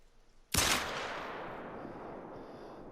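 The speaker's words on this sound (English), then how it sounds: "Not sure if that second shot made contact with him." A single sharp Glock 10mm gunshot in a hunting video game, loud and near, with a long ringing decay trailing after it, no talk.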